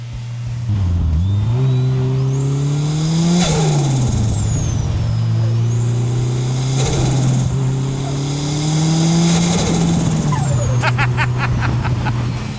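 A GT-R-engined Datsun 240Z and a turbocharged Isuzu Gemini rev together, loud close engine notes climbing and falling in three or four sharp blips over a steady idle, with a turbo whistle and crackles near the end.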